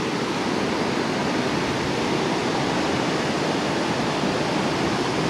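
A steady, powerful roar of a waterfall with a broad hiss of strong spray, continuous and close, with no voices.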